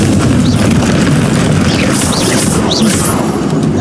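A Confringo spell bursts in the Hogwarts Legacy video game, a loud, dense blast with a heavy low rumble that fills the whole moment, with crackling debris and sparkling magical tones on top.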